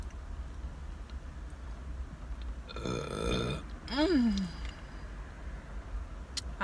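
A close, throaty burp from someone eating cheesecake in a car rises out of a steady engine-like rumble, preceded by a brief rough swell of noise, then fades back into the background hum.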